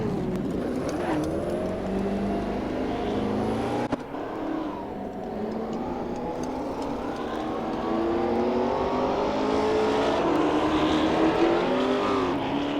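A race car engine from the Assetto Corsa racing game, a small winged car, drones loudly and continuously, pitch climbing and dropping through gear changes, with a brief dip near the start of shifting and a steady sustained howl afterward.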